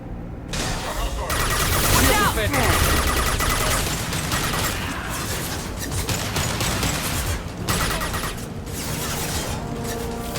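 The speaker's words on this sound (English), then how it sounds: "Blue Suns and Vorcha shooting anything that moves." Continuous gunfire from Blue Suns mercenaries and Vorcha in Mass Effect 2, sustained automatic bursts with short pauses over a steady loud background of combat noise, with voices mixed in.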